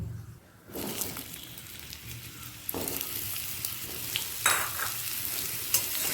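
Cut potatoes dropped into hot oil over tempered dried red chilli, a sudden burst of sizzling that holds steady and close while a spatula scrapes and stirs the pan in occasional strokes.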